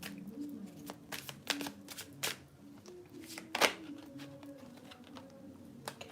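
Soft, intermittent tarot card shuffling with light riffles and taps, fairly quiet and close, with faint background sounds between the bursts.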